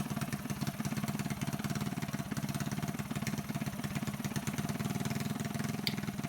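A Predator 224 mini bike engine with a Mikuni VM22 clone carburetor idles steadily, a low rapid putter running evenly throughout at moderate distance.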